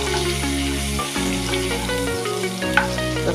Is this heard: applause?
no